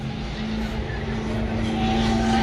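Drift car engine revved hard at a drift event, a loud continuous droning roar that holds steady and swells slightly, heard close with no clear talk over it.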